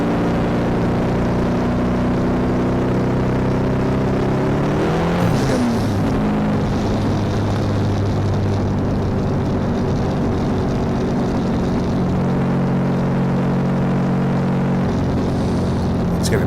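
Drag racing machine at Santa Pod with engine revs climbing: a steady loud drone whose pitch sweeps upward and settles, running continuously throughout.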